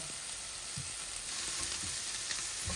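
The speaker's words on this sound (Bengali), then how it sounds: "এই যে আমার সরিষা, রসুন, পেঁয়াজ, লাউয়ের খোসা সব কিছু ভাজা হচ্ছে।" Mustard, garlic, onion and bottle gourd peel fry together with dried fish in a pan in a Bengali home kitchen, giving a steady close sizzle with occasional soft low knocks from stirring.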